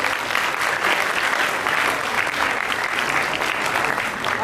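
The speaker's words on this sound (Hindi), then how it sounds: "तो एक बार फिर से जोरदार तालियां इन बच्चों के लिए" An audience claps loudly and steadily for children who have sung bhajans at a birthday celebration for Bhagwan Dev Atma, a dense, even wash of applause lasting throughout.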